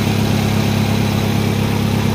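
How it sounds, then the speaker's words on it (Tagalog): A Kia Picanto engine idling quietly, a steady low hum and soft rumble at constant level, close by and uninterrupted, with no voices. "Tahimik yung makina"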